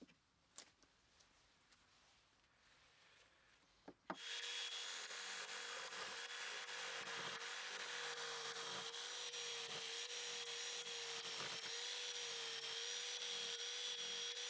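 A power saw cuts recycled pallet wood for an Adirondack chair, shaping curves and rounded corners. After a few quiet seconds with faint knocks, the saw kicks in loud and close, then runs as a steady roaring whine until the end.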